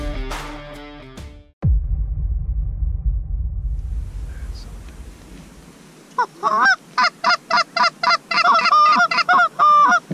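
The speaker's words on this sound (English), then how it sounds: "That was a big goose." Canada geese honk in a rapid, loud series of repeated calls during a goose hunt, following a sharp blast and a stretch of low rumbling noise, with no one speaking.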